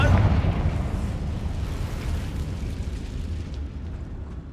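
A Confringo fire spell blasts in Hogwarts Legacy, a loud rumbling explosion that bursts at the start and rolls on as a low, sustained roar, fading slightly over several seconds.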